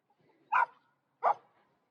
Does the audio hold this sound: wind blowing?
no